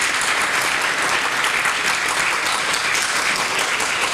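Steady, loud applause from an audience at the KBR Sangeet Mahotsav 2020 music festival, dense clapping held at an even level throughout with no pauses.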